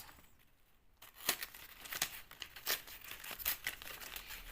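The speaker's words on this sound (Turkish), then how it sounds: "Şimdi bunu buradan yırtıyoruz" Plastic packaging crinkling and tearing in short, uneven bursts close by, with a scratchy rip sound and no voices.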